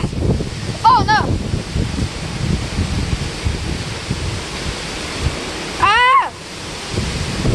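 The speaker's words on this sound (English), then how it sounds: "I'm outside and a huge gust of wind just blew." Hurricane wind gusts and surf batter a flooded street, a steady roar of wind noise and waves with a stronger gust swelling near the end, while a person cries out briefly twice over it.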